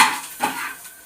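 Stirring prawn fried rice with coriander in a pan, a short scrape and clink of a utensil against the metal with faint sizzling, close and alone.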